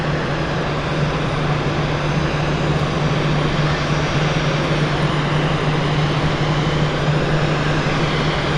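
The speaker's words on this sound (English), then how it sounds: "Its type is Boeing" A Swiss Boeing 777-300ER airliner at Zurich Airport, a loud, close, steady engine roar with a strong low droning hum running continuously throughout.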